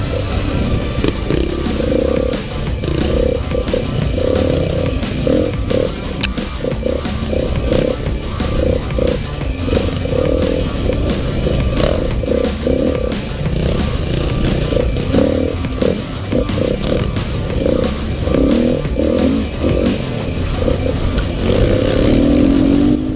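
A big bore single-cylinder enduro motorcycle is ridden fast off-road, its loud, gruff thumping engine roaring continuously with rising and falling revs throughout.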